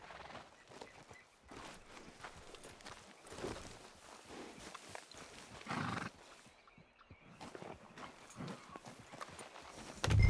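Horse hooves clip-clopping at a walk while riding in the video game Red Dead Redemption 2, soft steady steps under ambient outdoor sound, with a brief snort or whinny near the end.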